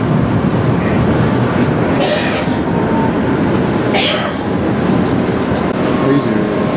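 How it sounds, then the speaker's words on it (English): A Sarajevo tram rolls along with a constant rumbling drone, occasional rail squeals and brief hissing bursts rising above the steady noise. "here I am on my first Sarajevo tram ride"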